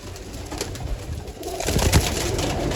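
Low throaty cooing from a loft of roughly 48 pigeons carries on without pause, near and moderately loud, building a little in the second half, with no voices over it.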